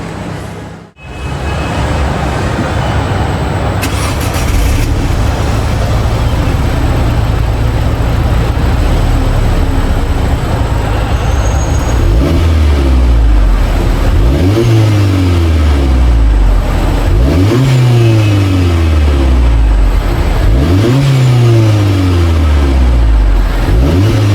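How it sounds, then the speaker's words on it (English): Car engine cold-starting, then revving repeatedly in long rising and falling sweeps, loud and close, with no talk over it. "let me give you guys a cold start because we do have the key in the ignition"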